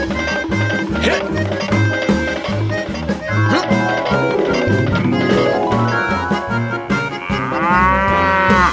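A cow moos in a few drawn-out calls, loud and close, layered over busy rhythmic music.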